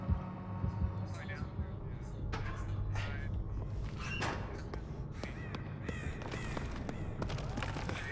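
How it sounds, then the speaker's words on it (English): A steady low throbbing heartbeat warning pulses through the Dead by Daylight match at the RPD map with Chucky as the killer, sustained and fairly loud beneath game effects, scattered clatter and a player talking. "really strong heartbeat"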